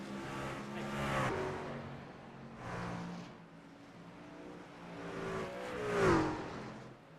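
Race trucks in a simulated iRacing truck series race at Chicago, engines whining and surging as cars pass by in waves, rising and falling over several seconds with a sharp pitch sweep near the end, no talk.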